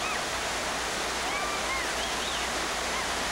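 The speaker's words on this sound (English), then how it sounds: "Here the rapids were tight and technical, similar to those found on the rivers of California." Whitewater rapids rush through the narrow Five Cheeks Canyon on Siberia's Katun River in a steady, loud roar, with faint whistle-like tones drifting above the churning water.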